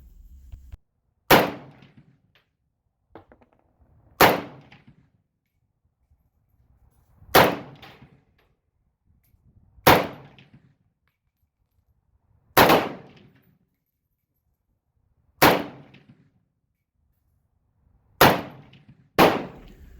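Eight loud, sharp rifle shots from a Romanian MD 63 firing 7.62x39 rounds, fired slowly at roughly even intervals of two to three seconds, each followed by a short decaying echo, with quiet gaps between.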